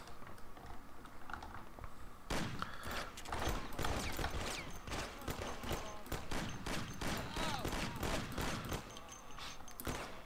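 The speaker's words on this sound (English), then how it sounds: "we're about to get into the first actual big shootout of the game" A shootout in the video game Mafia: The City of Lost Heaven: after a quiet opening, rapid bursts of gunfire crack out close and loud, dense and irregular, over several seconds.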